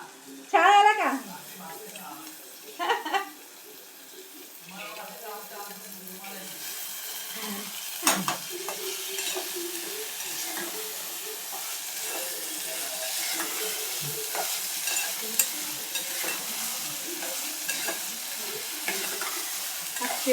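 Whole masoor lentils being sautéed and stirred in a pan, giving a steady close sizzle with scraping stirs, while a voice talks over the start.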